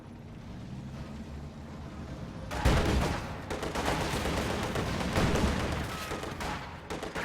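Machine gun and rifle fire from a strategy video game battle between German LMG grenadiers with T-70 tank support and Soviet squads, a sudden dense crackle of bursts starting partway through and continuing steadily over background rumble.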